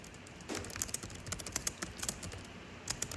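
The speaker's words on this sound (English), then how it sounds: "Let me type that out." Quick, light keystrokes on a computer keyboard tap out in an irregular run of close, soft clicks over a quiet room background.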